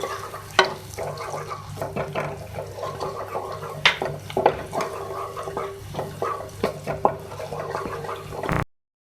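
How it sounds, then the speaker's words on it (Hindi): Chopped garlic frying with softened onions in a pan, a close steady sizzle broken by frequent scraping and knocking of a spoon being stirred. "मैं इसमें ऐड करूँगी चॉप लहसुन, 1 खाने का चमचा, इसको भी फ्राई करेंगे।"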